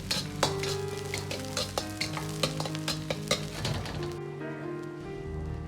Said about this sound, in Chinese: 起锅烧油，下面开始炒制酱汁，放入少许的油，先下入葱姜蒜，